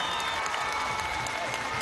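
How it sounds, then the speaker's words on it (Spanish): A crowd at an outdoor presidential campaign rally in Maturín claps and cheers, giving a fairly quiet, continuous wash of applause with faint music and voices underneath. "Vamos a darle un aplauso a Silvia, primera combatiente."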